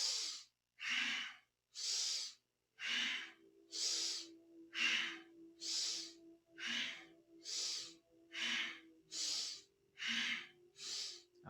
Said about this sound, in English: Again with a powerful breath.